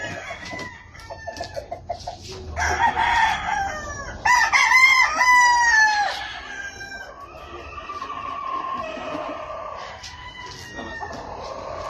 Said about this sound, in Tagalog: ito na po ang inyong mga manok